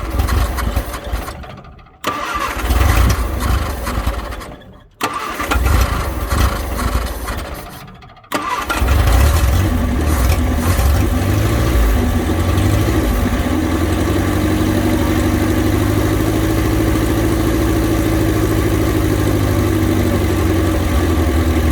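A 1962 Vauxhall Victor engine, sitting unused for 25 years, cranks in three loud, labored bursts with short pauses between them, then catches and settles into a steady, rough running drone.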